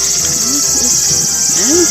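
Cicadas buzz in a steady, loud, high drone through a forest campsite at Okuyame Takibi no Mori, with low voice-like growls and murmurs underneath.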